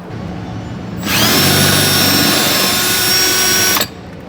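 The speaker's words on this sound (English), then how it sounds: "you're gonna have to drill out these rivets" A power drill whines loudly for about three seconds, biting steadily into metal while drilling out rivets on a Mercedes W212 passenger seat, then cuts off, leaving quiet background before and after.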